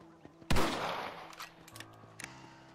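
A single sharp rifle shot cracks out in Red Dead Redemption, followed by a decaying echo and a few fainter clicks and rattles.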